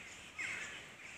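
Crows cawing overhead as a flock of birds comes down, one harsh call standing out briefly against a steady, faint airy background.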